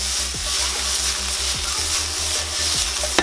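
Brussels sprouts with shallots and garlic, seasoned with salt and pepper, sauté in a pan with a steady broadband sizzle, close and continuous. Occasional soft knocks and a low rhythmic hum sit underneath.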